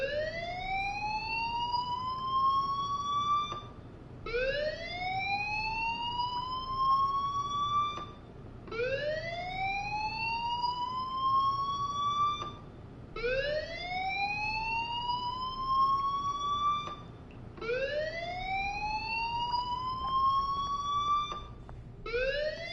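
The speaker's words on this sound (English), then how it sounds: "Hey, do you hear that fire alarm?" A fire alarm in the video game Life Is Strange whoops with a rising tone, repeating about every four to five seconds across six steady, loud sweeps, with no talking over it.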